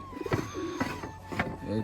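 Two caged pigeons coo in short rolling phrases close by while a person talks over them.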